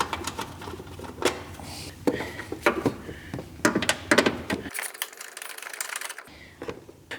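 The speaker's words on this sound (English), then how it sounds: "now we're going to take off the bolts to the actual reservoir." A ratchet tool loosens the bolts holding the coolant reservoir on a Nissan Skyline, producing irregular clicking and metallic ratcheting bursts with scrapes and knocks, fairly close, with a brief quiet gap partway through.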